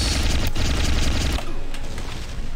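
An explosion in the video game MDK2 erupts as a loud, dense burst of rumbling blasts and crackling debris, then drops to a quieter rattling tail.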